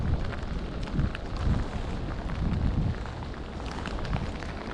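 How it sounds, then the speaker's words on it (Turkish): Heavy rain at sea on a fishing boat off Sinop, with a dense, steady hiss of drops and gusty low rumbles of wind throughout, fairly close and with no voices. "Tabi bu arada yağmur çok yağıyor arkadaşlar."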